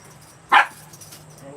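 A dog gives a single sharp, loud bark close by while its lead is being put on, followed by quiet background.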